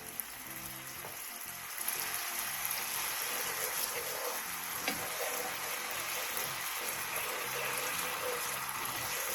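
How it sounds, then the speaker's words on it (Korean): Seasoning sauce bubbles and sizzles in a lightly oiled pan over low heat, a soft, steady frying hiss that carries on evenly throughout, close but fairly quiet. "팬에 기름을 조금 둘러준 뒤 양념장을 넣고 약불에서 한번 바글바글 끓여주세요."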